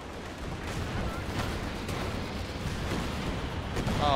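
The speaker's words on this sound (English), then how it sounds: "Oh, all the explosions, please. All the explosions." Battlefield din from the Company of Heroes 2 video game, with continuous rumbling artillery fire and explosions layered over rattling gunfire, loud and sustained, swelling near the end.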